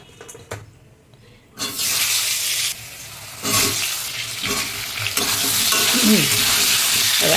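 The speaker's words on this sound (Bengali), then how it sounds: "আলু কটাকে আমি নুন আর হলুদ দিয়ে একটু ভাজবো" Potato pieces with salt and turmeric go into hot oil in a wok after fish has been fried in it, setting off loud, sustained sizzling in several bursts, with stirring and scraping that build toward the end.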